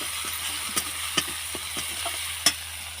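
Potatoes and kohlrabi fry in a pan with a bay leaf, and a spoon stirs them. A soft, steady sizzle is broken by a few sharp, scattered clicks of the spoon against the pan.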